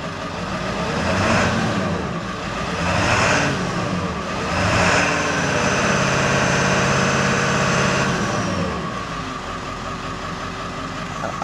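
An engine idles roughly for about eleven seconds, its steady low rumble swelling and dipping unevenly with a few surges, close and continuous with no talk.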